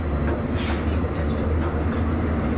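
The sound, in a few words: Disneyland Monorail running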